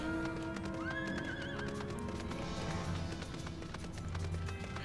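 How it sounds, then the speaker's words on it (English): A nightmare horse in a video game galloping with rapid clip-clop hoofbeats and neighing, mixed under steady game music and ambience at moderate level. "Jump on my nightmare horse."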